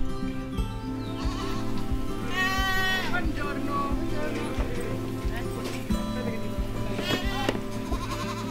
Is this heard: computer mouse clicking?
no